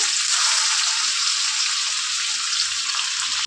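Grated bottle gourd (lauki) for halwa goes into a hot pan, producing a loud, steady, close hiss and sizzle that carries on evenly and then cuts off abruptly, with no talking.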